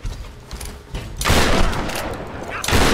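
Gunfire in the video game Tomb Raider: a loud burst of rapid shots swelling after a short lead-in, then a second burst starting near the end, with no clear talk.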